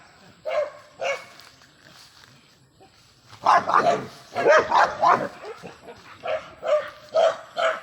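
Guard dogs on a farm hacienda bark in a series of sharp, fairly close barks, sparse at first and then more rapid and overlapping.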